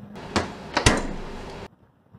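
A Volvo V70 car door is handled with a couple of sharp knocks, then a solid, heavy thud as it shuts, followed by a brief muffled tail and near silence, heard close up.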